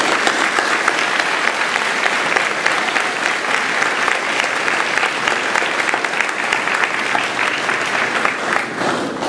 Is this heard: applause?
yes